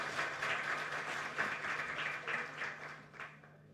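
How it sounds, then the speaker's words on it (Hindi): An audience claps at a national workshop for media and social media staff, a crowded patter that holds steady and then thins and fades out toward the end. "तालियां बजाइए इनकी हिम्मत के लिए"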